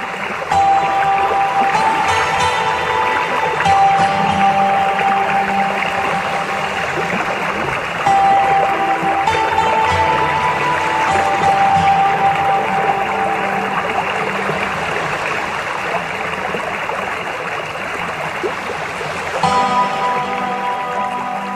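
Usri waterfall in Giridih, Jharkhand, running at low flow, gives a loud, continuous rush of falling water. The roar holds steady throughout with faint tonal sounds in the background.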